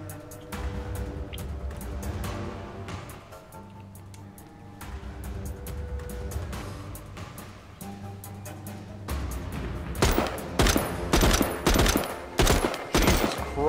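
Rapid assault rifle fire in the zombie survival video game The Walking Dead: Saints and Sinners, with irregular single shots early on building into dense, loud bursts toward the end over a low background hum.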